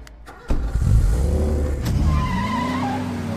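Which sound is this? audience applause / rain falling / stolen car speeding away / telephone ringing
stolen car speeding away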